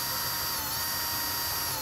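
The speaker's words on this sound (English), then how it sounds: "we will now use the hole in the middle to drill a 5/16 hole" A power drill boring a 5/16 hole through a car dashboard while fitting a flat tow brake system, a steady close whine that runs unbroken throughout.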